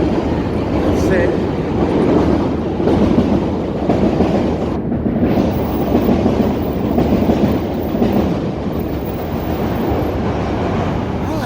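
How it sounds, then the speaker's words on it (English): A train passes along Wabash Avenue in downtown Chicago, a steady loud rumble with rail clatter lasting throughout, heard close by amid street noise and wind on the microphone, with a voice speaking at times. "Okay, the train is coming."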